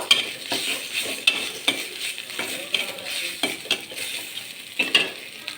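Oil sizzles steadily in a pan of fried onions as ginger-garlic paste goes in for a bottle gourd curry, while a spoon stirs and scrapes, with sharp metallic clinks at irregular intervals.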